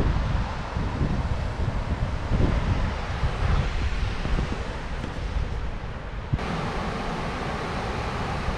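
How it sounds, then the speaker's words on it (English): Strong wind blowing in wet, stormy weather near Santiago, a loud continuous buffeting roar on the microphone with gusty low rumbles and a sudden drop in intensity near the end. "God, it's windy and it's wet."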